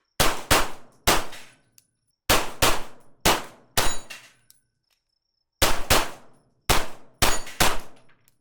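Atlas Gunworks Titan pistol shots ring off steel targets in quick groups: sharp cracks followed by bright metallic clangs, about a dozen in irregular clusters with short pauses, loud and close, no talking.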